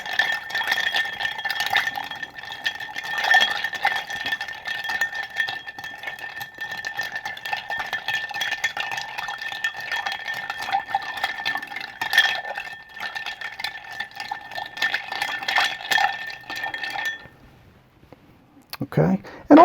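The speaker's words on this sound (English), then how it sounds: "And we're going to stir this for 30 seconds." Ice being stirred in a mixing glass for a Sazerac cocktail, a steady continuous rattle and clink lasting most of the clip before stopping near the end.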